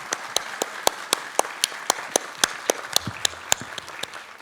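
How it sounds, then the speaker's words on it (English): Audience applause at a quantum science and technology panel, with distinct rhythmic claps standing out over a soft wash of clapping, moderately loud and steady for several seconds. "A big round of applause to everybody."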